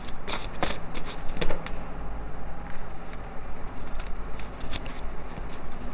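Tarot cards are shuffled close by, with a steady run of papery riffles and soft flicks punctuated by sharper snaps, continuing throughout without talk.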